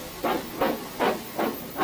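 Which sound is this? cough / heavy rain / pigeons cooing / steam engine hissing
steam engine hissing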